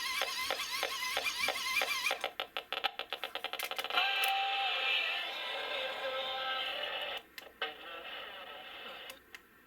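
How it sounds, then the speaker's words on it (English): Hand-cranking an emergency AM/FM weather-band radio, a rapid run of close ratcheting clicks and whirring winding, then a steady hiss of radio static broken by a few clicks. "That's the sound of cranking."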